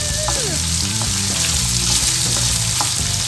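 Small shallots frying in hot coconut oil for mutton Pallipalayam give a steady, loud sizzle with bubbling crackle and a few sharp stirring clinks over a continuous background hiss.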